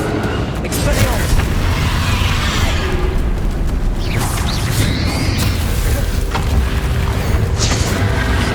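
Spell combat in Hogwarts Legacy as Expelliarmus is cast, with whooshing magical bursts, booms and crashing impacts layered over continuous battle noise, a voice speaking over the action.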